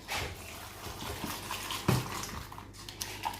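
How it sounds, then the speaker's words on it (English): Tamarillo fruit being washed in water for jam, a soft, close splashing and trickling of water, with one brief slosh midway and light drips toward the end. "We'll wash this first"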